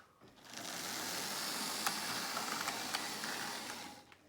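Lima Class 37 model locomotive motor running, a steady high-pitched whining buzz for a few seconds with faint clicks, moderately quiet and close, no talking.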